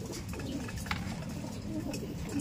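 Racing pigeons coo softly at feeding time in a loft amid a busy, noisy background, with faint voices nearby.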